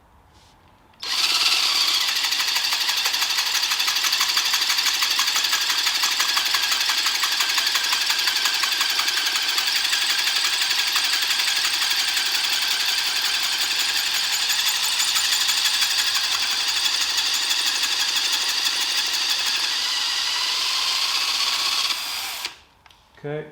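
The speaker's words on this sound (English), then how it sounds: "Now basically I believe we're now drilling into what was originally the end of the stud." A power drill runs continuously for about twenty seconds, a loud, steady buzzing grind bored into the end of a wooden stud, starting abruptly and stopping near the end.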